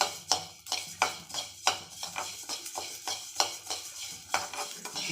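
Spices dry-roasting in a pan for sambar powder are stirred with a utensil, giving a steady run of close, rhythmic scraping strokes roughly once a second with no voices.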